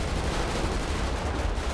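Dense gunfire and explosions fill a terror-attack scene in the video game GTA, heard as a loud, continuous roar of overlapping shots and blasts with no talking.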